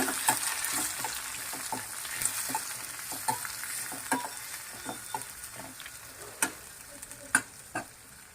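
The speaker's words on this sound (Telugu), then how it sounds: "ఆనియన్స్ వేస్తున్నానండి" Two finely chopped onions added to hot oil in a pan for a broad bean and tomato curry, a steady close sizzle broken by sharp clicks and scrapes of stirring.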